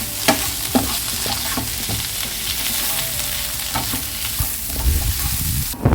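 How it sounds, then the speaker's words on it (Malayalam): Moringa leaves fry in a pan while a spoon stirs them, a steady sizzle broken by irregular scraping knocks, close-up and moderately loud, with no talking. "ഇനി നമുക്ക് ഇതിലേക്ക് മുരിങ്ങയില ഇട്ട് കൊടുക്കാം. ഇനി ഒന്ന് ഇത് ഇളക്കി കൊടുക്കാം."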